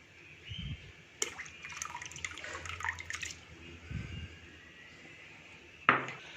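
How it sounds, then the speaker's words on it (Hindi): Soaked rice and its water pour into a warm pot while bird feed is prepared for budgies, cockatiels and lovebirds, giving quiet splashes, dribbles and light clinks, then a sharper knock near the end. "अभी मैं इसके अंदर राइस डालूँगा और जो आपने राइस डालने हैं वो आपने पानी के समेत इसके अंदर डाल देने हैं"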